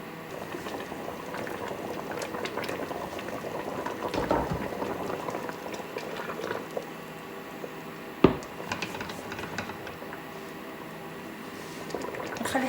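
Stew with kefta boiling in a pot, a steady bubbling simmer close by with occasional louder pops and clinks, no voices.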